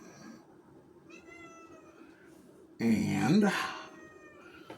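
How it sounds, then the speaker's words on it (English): A kitten lets out a loud, close meow midway, a short rising-falling cry that stands out against a quiet indoor room, while a person speaks softly before it during a model car build. "there's my mouthy little kitten"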